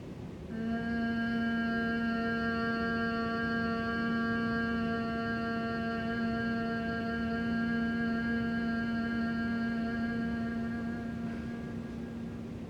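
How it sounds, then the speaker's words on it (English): Steady, sustained humming from the throat during a slow meditation exhale, one long even tone with rich overtones lasting about ten seconds, close and moderately loud with no talking. "you'll just make that gentle vibration with the throat, like a humming sound"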